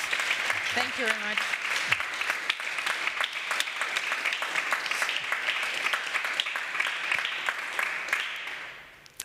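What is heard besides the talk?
audience applause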